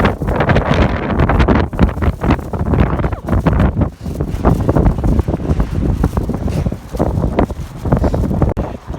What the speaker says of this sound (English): wind is harassing me